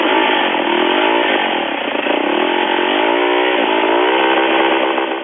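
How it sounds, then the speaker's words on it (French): A 500 cc motorcycle engine in a student-built vehicle with student-made aluminium steering column parts roars loudly and steadily at close range, holding a sustained rumbling tone with slight swells in revs. "L'occasion pour les élèves d'écouter le grondement du moteur"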